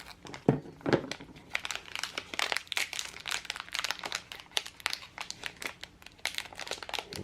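Close, busy crinkling and crackling of a plastic electrostatic bag being cut and pulled open, with dense irregular rustles and a few sharper snaps throughout.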